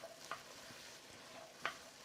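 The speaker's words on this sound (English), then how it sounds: "And we're going to saute until they come a little bit tender." Finely diced vegetables sauteing in a pan for a sweet potato, carrot and red lentil soup, a soft continuous sizzle with a couple of light stirring clinks, quiet and close.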